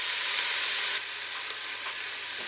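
Onions cook slowly over steady heat in a pan for coq au vin, giving a constant soft sizzle and hiss that drops to a quieter simmer after the first second, with no talk.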